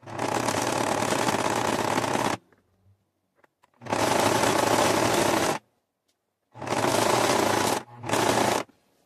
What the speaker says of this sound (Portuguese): A gente vai passar um zigue-zague aqui, ó, pegando tanto essa parte quanto a parte de trás.